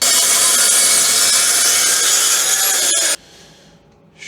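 A saw cuts off a corner of a wooden table in a garage, a loud close continuous rasping stroke for about three seconds that ends abruptly, followed by quiet room noise.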